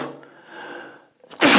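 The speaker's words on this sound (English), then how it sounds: "I'm gonna sneeze." A single person sneezes once near the end, loud and close, after a quiet breathy lead-up and brief intake.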